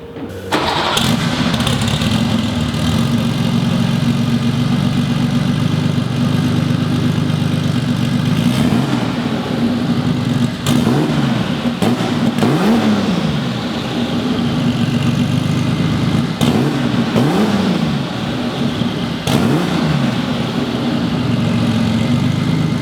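A classic Porsche engine fitted with a cheap China turbo starts up loud and close, settles into a steady idle, then gets several sharp revs that rise and fall throughout.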